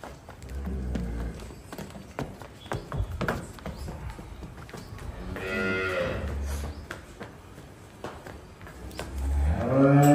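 A pregnant buffalo at a livestock sale in Amritsar district moos loudly and close by, with a long drawn-out call in the middle and another starting at the end, over rustling and low background noise.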